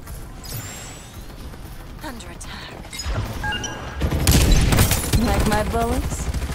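Rapid bursts of automatic gunfire in the battle royale game Farlight 84, building from scattered shots to dense, loud volleys with crashes and mechanical clatter, alongside a character voice.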